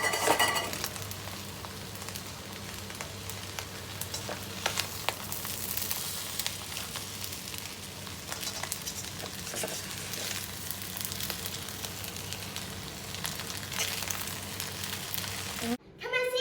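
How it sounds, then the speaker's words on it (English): Singaporean rice noodles stir-fried with spring onion, a steady loud sizzle and frying hiss running throughout with occasional scrapes, cutting off briefly near the end. "After mixing all the ingredients, add the spring onion and mix for 1 minute."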